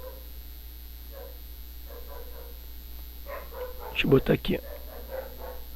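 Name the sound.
dog barking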